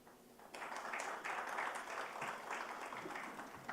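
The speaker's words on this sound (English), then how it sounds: "A round of applause for Mr. S.N. Singh for sharing these insights with us today" Audience applause at an MSME business conclave in Aurangabad, a steady crowd clapping that swells in and holds at an even, dense level for several seconds, with no talk over it.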